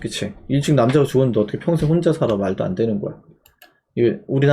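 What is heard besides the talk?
None of the usual background noises is heard.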